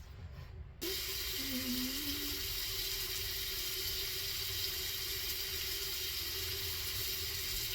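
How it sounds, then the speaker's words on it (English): Running tap water pours steadily into a sink as someone wets their face during a skincare routine, a constant close rush starting after a brief quieter moment, with no talking. "I'm wetting up my face first"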